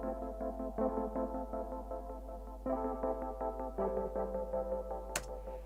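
Extra keyboard part from the Kontakt Ignition Keys patch in a lofi hip-hop track, soft sustained chords with repeated attacks over a low steady hum, fairly quiet and without voices.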